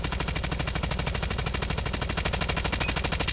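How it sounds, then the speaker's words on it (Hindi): A RUS-79U rifle fires in Call of Duty in a continuous rapid automatic stream, loud and close, with evenly spaced shots throughout. "अब मैं ट्राई करता हूँ इतनी दूर शॉट लगाने की"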